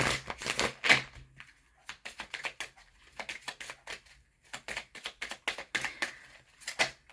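Oracle cards are shuffled by hand in bursts of crisp riffling and slapping, quick clustered flutters separated by short pauses, close and clear with no voice over them.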